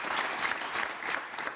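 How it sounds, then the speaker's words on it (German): A German TV studio audience applauds at a talk show welcome, steady rhythmic clapping that fills the room throughout. "Applaus. Herzlich willkommen."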